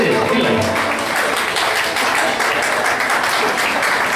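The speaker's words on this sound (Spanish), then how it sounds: "Lo recibimos con fuerte y caluroso aplauso" Applause from the crowd at a tribute luncheon, loud sustained clapping from many hands close by, steady throughout with a faint voice underneath.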